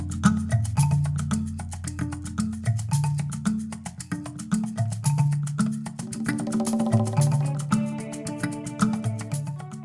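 Original groove for a track: a steady, looping bass line with rhythmic percussion and layered melodic parts that thicken midway, played continuously at a full, even level.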